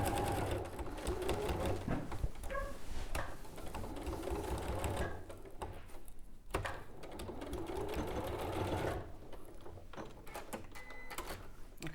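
A sewing machine stitches fabric in long continuous runs with short breaks between them. The whirring is close and steady, with faint talk at low level in places.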